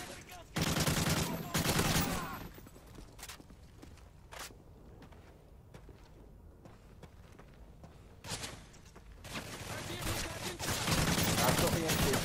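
Bursts of MP47 gunfire in Call of Duty: Modern Warfare 3 Survival Mode on the Interchange map, loud rapid volleys at the start and end with scattered single shots and footsteps between them.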